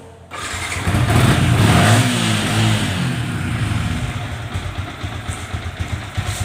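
A Yamaha Vixion motorcycle engine starts up and revs loud and close, then settles into a steady, slightly uneven idle throb.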